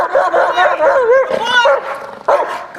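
A protection dog barks and yips at a stranger on a public street, loud and close, in quick excited bursts with some whining, while a person's voice is mixed in.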